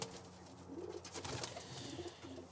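Birmingham Roller pigeons coo softly in a loft, low faint murmuring calls repeating over a hissy background.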